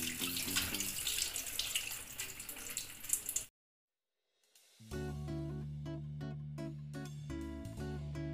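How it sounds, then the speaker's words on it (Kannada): Water poured off soaked rice before it goes into a pressure cooker, a steady splashing run lasting a few seconds that cuts off abruptly, followed by music. "ಈಗ ಇದರಲ್ಲಿರುವ ನೀರು ತೆಗೆದು ಕುಕ್ಕರ್ನಲ್ಲಿ ಹಾಕ್ತೀನಿ."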